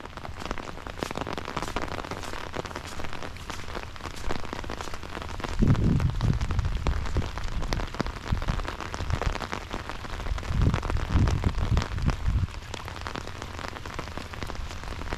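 Steady rain falls at a campground in Pinckney Recreation Area, Michigan, with a dense, even patter that continues the whole time and swells with a couple of low, rumbling surges.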